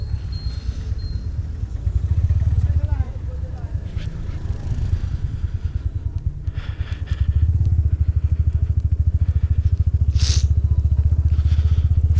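Motorcycle engine drones loudly throughout a night ride with the visor open, wind buffeting the mic as speed eases off; a voice talks over the steady engine roar.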